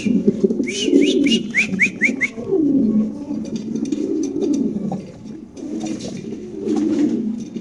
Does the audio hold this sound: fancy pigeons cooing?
yes